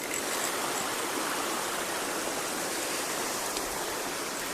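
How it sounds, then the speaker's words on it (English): Steady rushing of a snowmelt creek in Glacier National Park, a continuous broadband wash that stays loud and even from start to finish with no voices. "There's a lot of little creek and snowbank meltage crossings."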